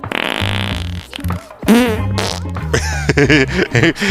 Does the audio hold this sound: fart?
yes